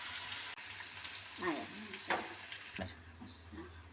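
Steady sizzling of asafoetida and spices frying in hot oil as tempering for Telangana-style raw mango chutney, a continuous crackling hiss with a few brief louder bursts and faint background voices.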